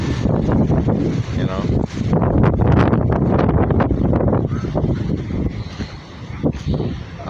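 Strong Hurricane Ian wind gusts roar and buffet the microphone outdoors by a garden and a rabbit pen, with someone talking throughout.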